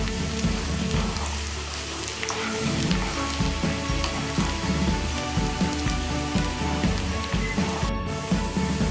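Sliced onions and brinjal sizzle steadily in hot oil in a South Indian kitchen, a dense continuous crackle with faint stirring scrapes throughout and no talking.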